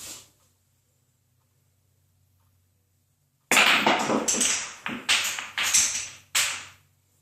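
A pool cue strikes and balls clack and drop into pockets in a trick shot, a sharp burst of close clicks and knocks followed by several rapid rattling impacts after a silent pause.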